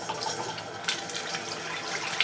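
Cold tap water pours steadily into the spinner drum of a compact twin tub washing machine, a continuous splashing rush with no voices.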